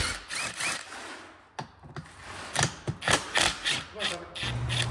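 A ratchet loosens bolts on a Suzuki Samurai seat mount, giving bursts of close clicking and metallic scraping in uneven clusters, with brief pauses and a low hum creeping in near the end.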